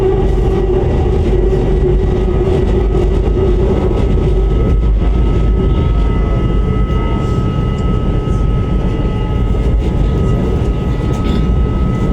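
Elevated train in Malaysia running on a track above the roads, a loud, sustained rushing roar with a low rumble and a faint steady whine, close and unbroken throughout, with no talk.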